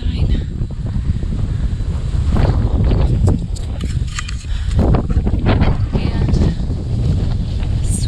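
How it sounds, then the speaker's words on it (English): Strong wind roars and buffets the microphone on the Lahaina Pali Trail, a ridge with windmills. The wind is loud and continuous and swells in gusts, with a brief spoken word in the middle. "sweet, sweet wind. I can tell why they put the windmills up here."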